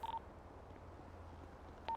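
Telephone keypad tones sound in a GTA V police roleplay game: one short beep at the start and another at the end, with a low hum between.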